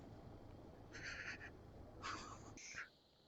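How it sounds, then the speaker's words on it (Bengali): Mountain birds call in an Arunachal valley near Sangti: a few short, bright chirping bursts stand out over a steady low background rush, with no talk. "এখানে একটা ঝর্ণার আওয়াজ পাচ্ছি, আর চারিদিকে পাহাড়ি পাখির আওয়াজ।"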